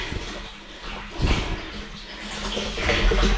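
Steady rushing of water pouring into a tank, a broad continuous wash of noise that swells slightly toward the end, with no voices.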